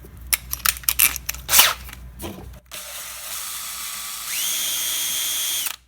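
A drill-mounted sanding bit cuts a round hole in short bursts, then a sustained high drill whine holds steady and rises in pitch before stopping, loud and close with no talking.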